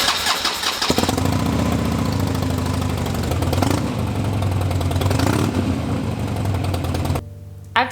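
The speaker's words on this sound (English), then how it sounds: "Now it's time to start it up and then double check that oil level." Harley-Davidson Dyna motorcycle engine cranking and catching, then settling into a loud, close, lumpy V-twin idle for several seconds before cutting off abruptly.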